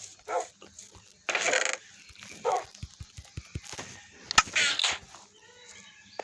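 Dogs in Minecraft give short, separate barks and yips between clicking game sounds, moderately loud and spaced irregularly across several seconds.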